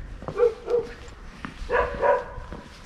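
Dogs barking outdoors along a hillside road below the castle in Berat, Albania, a few sharp barks in two short bursts at moderate distance.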